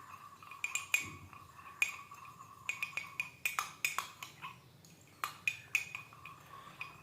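Parrot baby feed mixed with a spoon, giving a series of light, sharp clinks and taps against a small bowl, irregular and close, over a faint steady hum.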